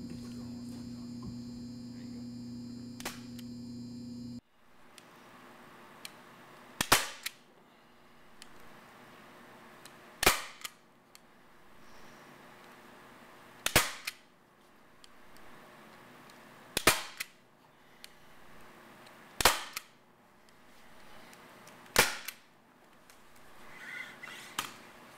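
A staple gun drives staples through upholstery fabric onto a wooden furring strip. Six sharp, loud single shots fall every few seconds over a steady hum and faint handling noise.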